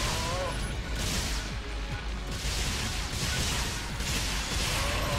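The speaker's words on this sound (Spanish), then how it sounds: "Los NPCs esos están nada más que spameando disparos" Rapid gunfire spammed by NPC Rangers in the online game Phantasy Star Online 2, a dense, continuous barrage of overlapping shots and impacts under game music with a voice talking over it.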